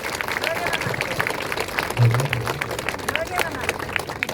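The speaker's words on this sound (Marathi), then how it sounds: "त्यांच्यासाठी जोरदार टाळ्या." Audience applause at a Republic Day function in Beed, a steady patter of many hands clapping at moderate distance with crowd murmur mixed in, continuing evenly for a few seconds.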